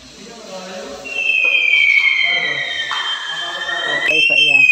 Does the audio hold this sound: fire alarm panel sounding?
yes